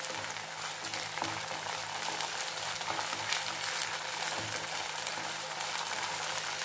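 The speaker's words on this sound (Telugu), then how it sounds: "అల్లం చిన్నులపాయ బాగా యాగనివ్వండి" Ginger garlic paste sizzles and fries steadily in a pan for a roasted semiya pulav, a continuous close crackle with faint stirring scrapes and no voices.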